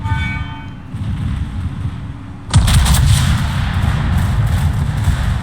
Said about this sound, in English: And just look at that secondary barrage.